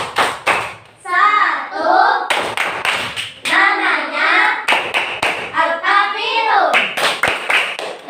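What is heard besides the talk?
children's rhythmic hand-clapping chant for Surah Al-Kafirun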